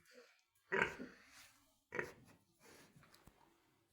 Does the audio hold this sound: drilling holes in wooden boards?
no